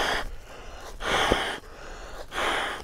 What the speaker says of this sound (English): I'll just be using the main valve and blowing up with the old breath power.